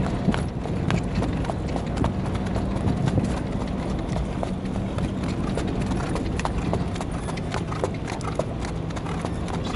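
A young Arabian colt trots bareback during breaking, hooves clip-clopping in a steady, continuous rhythm close by, with faint background noise and no clear talk.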